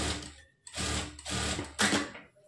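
A sewing machine top-stitches a joined blouse sleeve piece in three short bursts of close, steady whirring with brief pauses between them, no voices present.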